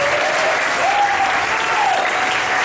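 A church congregation applauding, a dense steady roar of clapping close by with a faint voice or whistle rising through it.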